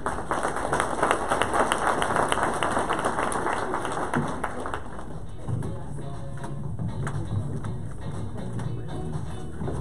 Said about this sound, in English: I'll give our panel one more round of applause.